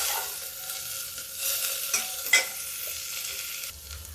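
Onions fry slowly in a pan with a steady, moderate sizzle and occasional soft stirring scrapes. No voices are heard.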